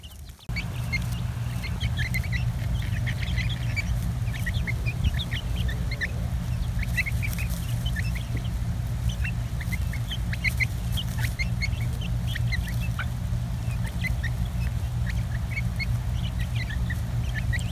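Several baby chicks and chickens cheep and cluck softly and continuously close by while a pet dog lies among them, over a steady low hum.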